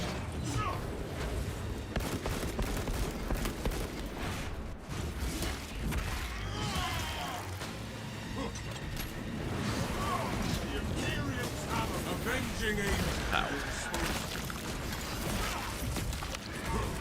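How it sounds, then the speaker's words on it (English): Heavy bolt pistol fire in Space Marine 2 crackles through dense, continuous battle noise, with rapid shots blending into the combat din while someone talks over it throughout. "shoot them with my heavy bolt pistol"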